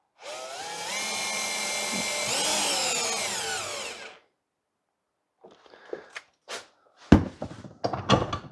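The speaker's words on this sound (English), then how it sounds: "I drill a hole in the middle, like this." A power drill bores a hole through the middle of a wooden stick, a steady loud whine that rises in pitch midway and runs about four seconds, then silence and a few scattered handling clicks and knocks.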